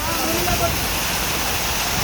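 Water pours and rushes steadily at a safari park, a dense continuous wash of broadband noise that holds at the same level throughout, close and fairly loud.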